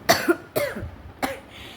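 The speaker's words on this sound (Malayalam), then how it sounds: "കൂടുതൽ വർത്തമാനം പറയുമ്പോൾ ചുമ വരികയാണ്" Three sharp coughs close to the mic, evenly spaced with short pauses between them, and no talking.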